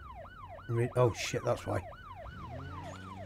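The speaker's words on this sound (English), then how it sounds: "Why can I hear a siren?" A wailing emergency siren rises and falls steadily throughout a driving video game with tanker racing, heard under excited talk and a few short shouts.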